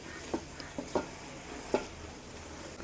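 Tomatoes being mixed in a pan with rock salt and turmeric for village-style chicken biryani: a low, quiet sizzle punctuated by a few distinct spoon scrapes and taps against the pan.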